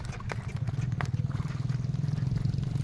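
Hooves of a ridden horse trotting and cantering during riding training, a steady rhythmic clip-clop close by over a low rumble, with faint sounds of a rider.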